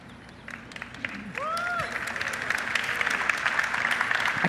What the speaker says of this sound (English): I can just say I'm pausing for applause